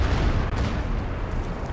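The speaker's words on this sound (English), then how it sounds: "A fragmentation bomb coming down on the mortar pit" A fragmentation bomb bursts on a mortar pit in a World War battle game, heard as a dense, continuous rumble of blasts and gunfire that stays loud and steady throughout with no clear single detonation.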